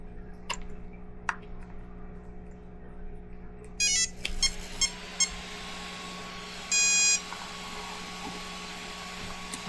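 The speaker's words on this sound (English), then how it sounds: "the ESC seems to fire up." A WLToys RC car's electronic speed controller powers up when the battery is plugged in, sounding a short run of clear electronic beeps and then another beep sequence a few seconds later over a faint steady hum and occasional ticks.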